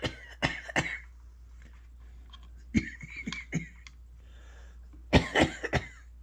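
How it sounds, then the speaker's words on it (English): Several harsh coughs in short bursts from a person close by, with clusters near the start, middle and end separated by quiet pauses. "I still got my cough."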